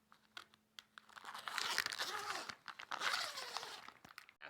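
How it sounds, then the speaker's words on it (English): A zipper being undone on the back of plastic costume packaging, a run of close crinkling, tearing rasps in two bursts with brief pauses, no talk. "unzip this zipper on the back"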